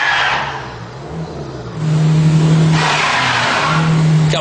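A car engine revs hard on ice with traction control switched off, surging loud and close in two long bursts with a brief dip between them.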